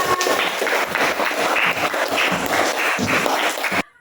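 Classroom of young pupils applauding for class 4, a burst of quick, uneven clapping from many small hands that stops abruptly at the end.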